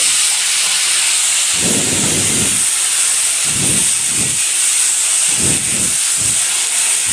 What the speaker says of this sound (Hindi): तो देखिए हमारी तेल भी गर्म हो चुकी है। अब हम इसमें कटी हुई आलू को डाल देंगे।